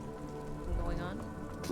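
Rain patters steadily on a white-and-blue police motor carriage in the video game Disco Elysium, a continuous wet hiss under a voice and soft music throughout.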